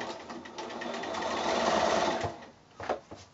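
A sewing machine hums in a steady run as it stitches quilt binding along a seam line on a shoulder bag, then stops and gives a few short bursts near the end.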